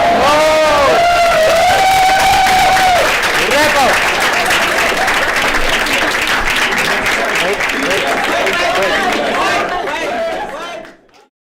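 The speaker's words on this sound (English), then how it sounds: "you are free to keep clapping or go, whatever you want" Crowd applause and cheering at the close of a national assembly, loud and sustained clapping mixed with whoops, shouts and chatter, with a voice singing out early on, before cutting off abruptly at the end.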